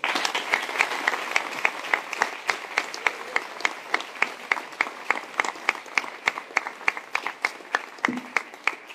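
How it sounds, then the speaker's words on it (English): A tech meetup audience applauds its speakers with steady, dense clapping from a fairly large room. Sharp individual claps ring out over the sustained applause, which fades slightly near the end. "I would say a big applause for our speakers."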